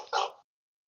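A dog outdoors lets out a single short, sharp bark close by, followed by silence.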